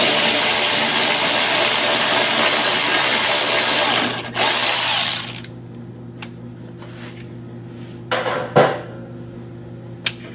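A ratchet turns out a 10mm bolt from the side of the front apron on a 2017+ Camaro ZL1: steady dense mechanical whirring for several seconds, then a few isolated clicks and short bursts against a quieter background.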